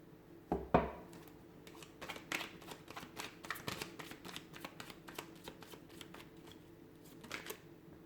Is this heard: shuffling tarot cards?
yes